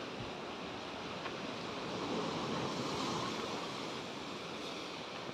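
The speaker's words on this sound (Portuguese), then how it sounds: "E literalmente aqui é a praia." Waves wash onto a rocky beach at Gotsu, Japan, a steady broadband surf roar with light wind noise, continuous and moderately loud throughout.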